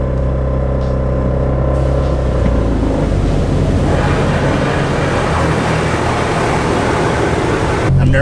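Automatic car wash at work on a turbocharged Mazda Miata, heard from inside the car as a steady, loud wash of spraying water and rumbling brushes with an idling engine beneath, building in intensity midway.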